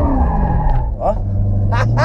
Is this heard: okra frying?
no